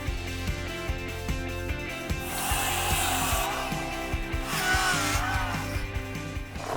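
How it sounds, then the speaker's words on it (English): A power saw makes a 45-degree miter cut in wood for a dock frame, giving a rising whine and rasping bite through the board over steady motor hum, close and moderately loud. "So I just miter that at 45, so miter means cut it at an angle."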